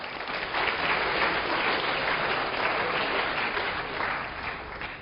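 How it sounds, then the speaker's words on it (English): Sustained applause from a lecture-hall audience at a university game theory class, a dense, even wash of many hands clapping, loud and continuous throughout. "Let's give another round of applause for Patrick."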